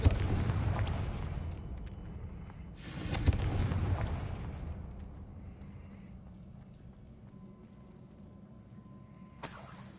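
A booming fire-spell blast from the Confringo curse in Hogwarts Legacy, a loud rumbling burst that swells and fades, followed by a second crackling impact near the end over steady game ambience.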